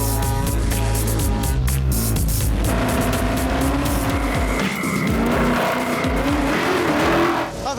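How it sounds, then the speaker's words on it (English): A car slides and skids across a fine layer of stones over volcanic ash, engine revving loudly with continuous tire scrabbling and squealing, close and sustained with no talk. "The car is sashaying around."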